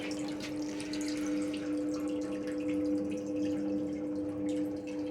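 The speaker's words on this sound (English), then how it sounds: "Obviously it's running on water now." A restored grindstone wheel turns steadily in its water trough, giving a continuous wet trickling and splashing over a low, even mechanical hum, close and unbroken, with no voices.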